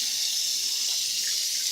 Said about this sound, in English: You might want to run some hot water